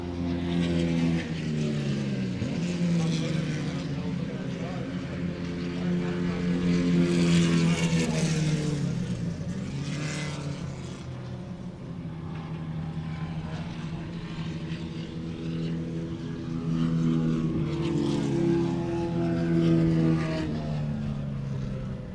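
Formula Vee race cars lapping Carolina Motorsports Park on the final lap, engines droning loudly and continuously with pitch swells as cars pass and accelerate onto the backstretch.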